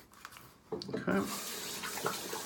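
A tap starts running partway through and keeps flowing steadily, water rinsing shaving lather off a razor at a sink, preceded by light handling noises.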